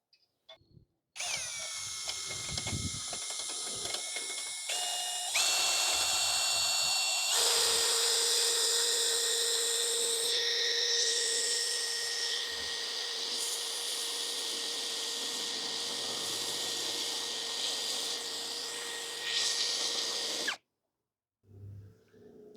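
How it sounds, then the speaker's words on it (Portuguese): Tecepo 21V cordless drill in drilling mode at speed 2, boring into wood with a steady high whine that rises and shifts in pitch, loud and close, running alone for about twenty seconds before stopping abruptly. "Para esse trabalho, vamos continuar no modo de perfuração. Vou começar na velocidade 2"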